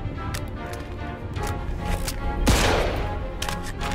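Gunshots in the video game Mafia 2 crackling as scattered, fairly distant pops over dense background noise, with one louder crack and burst partway through.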